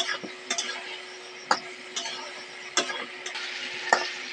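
Spice paste sautés in a pan for a hilsa fish curry, with a low background sizzle broken by a series of sharp spatula taps and scrapes at irregular intervals.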